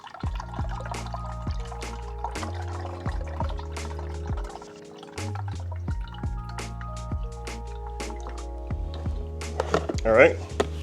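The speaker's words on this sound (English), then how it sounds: "So I'm going to try to pour it in there without spilling." Fluid poured into the reservoir of an Audi A3 8P, heard as close, irregular glugs and drips that bubble and gurgle in uneven bursts, growing busier toward the end.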